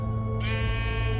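A single sheep bleat from the video game Minecraft Story Mode, a short wavering cry over a constant bed of game music.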